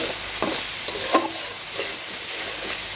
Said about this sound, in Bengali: তেলটা যখন ছেড়ে দিবে তখন কিন্তু আমি ভেন্ডিটা কষিয়ে নেব